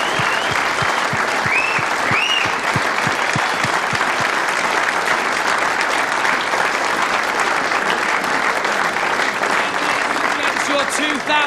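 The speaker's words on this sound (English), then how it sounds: "a big round of applause for your runner-up in this year's competition" Crowd at the 2008 World 8-Ball Pool Championship final gives the runner-up a long, loud round of applause, with cheers and whoops over the start and continuous dense clapping.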